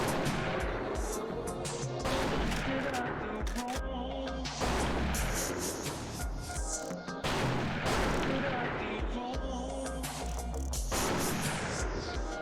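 Repeated sniper rifle shots ring out in The Thing video game, several loud cracks with booming tails over a dense, continuous bed of game noise, with voices present throughout.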